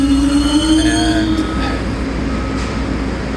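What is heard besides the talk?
subway train in station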